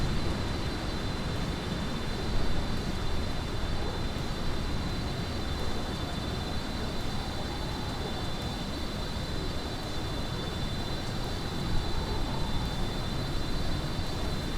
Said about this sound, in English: It's a 787 Dreamliner, Mad Dad.